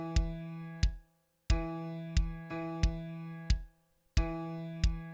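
A single pitched note struck repeatedly in a dotted quarter note rhythm: clean, ringing attacks in a long-short pattern, each tone decaying before the next, with clear silent gaps between groups and no talking.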